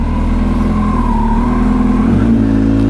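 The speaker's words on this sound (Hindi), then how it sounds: "गाइस कोल्ड स्टार्ट की साउंड देखना कितना ज़्यादा आएगी" A superbike engine running after a cold start, with a steady, loud, low mechanical hum and rumble that holds throughout and no voices.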